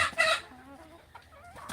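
Native chickens cluck in short, close bursts with a rooster call among them, fairly quiet with brief gaps between the calls.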